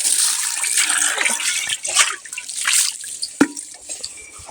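Water gushes and splashes from a hand pump in irregular spurts, with drips and a sharp knock partway through, heard close.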